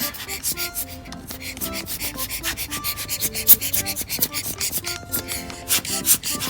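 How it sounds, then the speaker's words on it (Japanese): Cloth or tissue rubs and wipes inside an overlock sewing machine during cleaning, giving repeated close scratchy strokes in an uneven rhythm. "あとは布とかティッシュ絡めてこうやって下に落としていく感じですね。"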